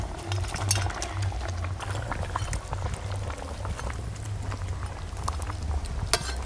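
Fish curry gravy bubbles and boils in a pot, a dense continuous burble of popping bubbles and simmering liquid heard up close, with faint background noise and no talk.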